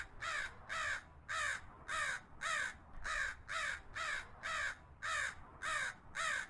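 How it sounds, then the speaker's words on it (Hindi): A cartoon crow caws in a long, even series of about a dozen harsh, nasal calls. The calls repeat at a regular rhythm, sound moderately close and are heard alone. "फिर काव काव चिल्लाते हुए शेर को जगा देता है।"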